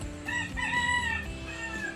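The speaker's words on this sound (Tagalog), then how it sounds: "Wala na naman tigil ang mga manok." Chickens crow and cluck continuously at a new outdoor spot, with roosters' rising calls repeating over a busy, steady background of clucking and crickets.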